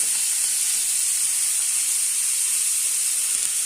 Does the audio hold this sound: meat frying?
yes